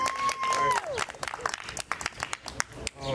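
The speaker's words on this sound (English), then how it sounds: "round of applause for them." An audience at a poetry night on the Alice Austen House stage breaks into applause and cheering, a dense burst of clapping with whoops that thins into scattered claps, mixed with some voices.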